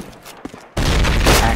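Pistol shot in an online multiplayer shooter game, a sudden loud sharp blast that cuts in after a quiet moment and rings on with a dense burst of gunfire noise.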